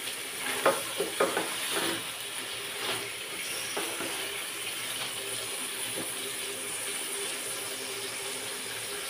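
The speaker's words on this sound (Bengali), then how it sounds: "তো মশলার সাথে ভালো মতো মিক্স করে দিয়ে একটা ঢাকনা দিয়ে ঢেকে দিব" Bottle gourd curry with fish and spices being stirred in a pan, soft scraping strokes and a few sharp clinks early on over a faint steady sizzle, quiet and close.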